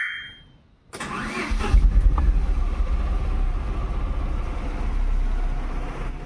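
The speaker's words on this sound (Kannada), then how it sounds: "ಗಾಡಿ ಸ್ಟಾರ್ಟ್ ಆಗಬೇಕಾದ್ರೆ ಹಿಂಗಿರುತ್ತೆ ಸೌಂಡ್ ನೋಡ್ರೆ, ಈ ತರ ಇಗ್ನಿಷನ್ ಬರುತ್ತೆ" A petrol Tata Nano engine cranks and catches with a sharp start, then settles into a steady, loud, close idle that keeps running to the end.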